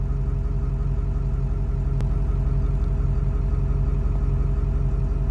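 A Ford F350 pickup idles at an intersection, its engine a steady, low rumbling drone. It stays close and even throughout, with one brief sharp click midway.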